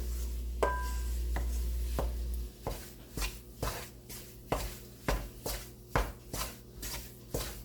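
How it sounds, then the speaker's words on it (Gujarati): Wheat flour roasts in a pan on low heat while a spatula stirs it, giving a run of regular, close scraping strokes at a steady rhythm, fairly quiet, with no talking. "આ રીતે આપણે હલાવતા રહેવાનું છે। લોટ શેકાઈ જાય એટલે એકદમ છૂટો પડી જશે।"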